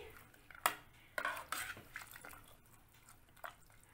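Spoon clinks and scrapes against a pot while methi khichdi with fresh green fenugreek is stirred and mixed, a few sharp metallic knocks spaced over a quiet background, with no talk.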